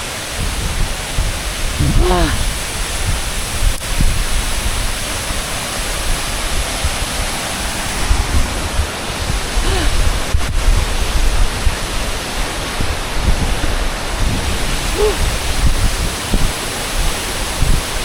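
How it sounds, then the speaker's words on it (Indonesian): The Tancak Panti waterfall in Jember, a constant broadband roar of falling water that fills the whole clip, with faint voices underneath and occasional brief whistling sounds. "Air terjun Tancak ya."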